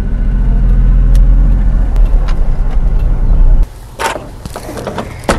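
A Honda ACTY mini truck is driven a short way into shade, its small engine droning steadily up close before cutting off abruptly, followed by scattered clunks and rustling.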